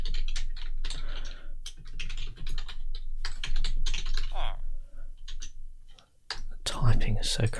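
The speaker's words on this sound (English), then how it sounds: "typing is so crazy" Rapid typing on a computer keyboard, dense irregular clicking of keys close to the mic, with a few brief pauses and a burst of louder clacks near the end.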